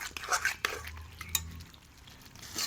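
A utensil scrapes and knocks against a pan while meat and capsicum sizzle and fry, with several sharp clinks over a steady low frying hiss.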